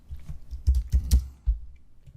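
Several quick keystrokes on a computer keyboard, a short cluster of soft clicks followed by one more tap, close and fairly quiet against a low room hum.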